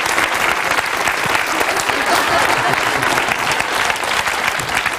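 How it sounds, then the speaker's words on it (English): A TV studio audience claps loudly and continuously during a Saturday night magic show in Dublin, a dense wash of applause that holds steady for about five seconds without a break. "give him a big round of applause"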